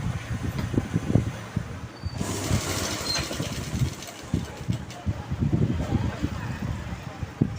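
A sewing machine stitching pleats into a pair of pants hums with a steady, rhythmic run of low thumps, with a brief pause near the two-second mark and a voice talking over it.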